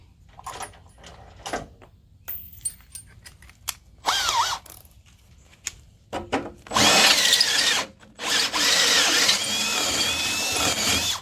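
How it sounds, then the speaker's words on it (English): A drill with a 3/8 inch bit starts and stops in short ratcheting bursts, then grinds through material in longer loud runs, close up, while installing a Warn bull bar on a Jeep. "I'm up to my 3/8 drill bit."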